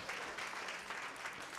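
An audience applauds to welcome journalist Paolo Berizzi at a book presentation, a dense, steady wash of clapping filling the room at an even, sustained level from start to finish.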